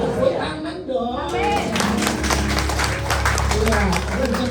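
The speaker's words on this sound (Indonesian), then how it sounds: "Tepuk tangan dong." A church congregation at a sermon breaks into dense, loud clapping that builds quickly and holds steady as a continuous wash of applause. Crowd chatter mixes in.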